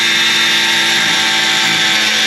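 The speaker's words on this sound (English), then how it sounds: "So we're going to try the angle grinder first." An angle grinder cuts into rusted radiator bolts during a plumbing job, a loud, continuous high-pitched whine that holds steady and close throughout with no talk.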